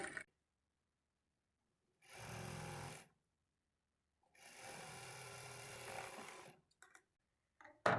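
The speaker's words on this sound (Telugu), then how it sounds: "ఇప్పుడు ఇక్కడ నుంచి స్టార్ట్ చేసుకొని పావించి మార్జిన్తో స్టిచ్ చేసుకోవాలి" A sewing machine stitches the shape belt of a plain blouse in two bursts, a short run and then a longer one, each a rapid steady whirring rattle separated by silence, with faint handling clicks afterward.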